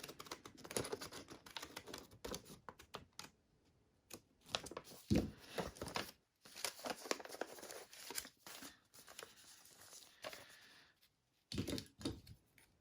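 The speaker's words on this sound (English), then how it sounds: "I just call them serrated scissors. And I just cut neatly." Serrated pinking scissors snip through tea-stained paper pages in a quiet string of short, crisp crunching cuts with brief pauses between them.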